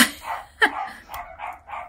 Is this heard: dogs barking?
yes